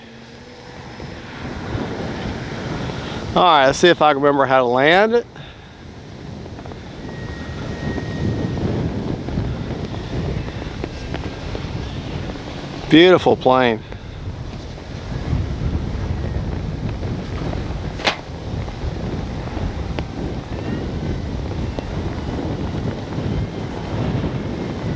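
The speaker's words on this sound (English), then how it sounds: "It is way too windy." Steady, strong wind buffets the microphone throughout, a constant rushing roar, with someone speaking briefly twice over it while flying an E-flite Carbon-Z T-28 RC plane.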